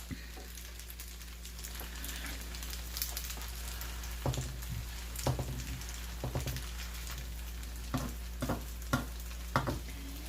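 A spaghetti pie crisps in a pan over medium heat, a soft, even sizzle broken by scattered popping crackles and light spatters throughout.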